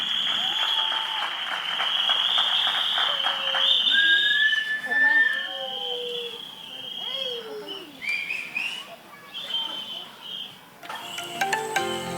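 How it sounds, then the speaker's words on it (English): Applause from the audience at a kids' annual day event rises and falls, mixed with whistles and crowd chatter, with a burst of sharper sound near the end. "please welcome with a big round of applause since it is their first time on their stage"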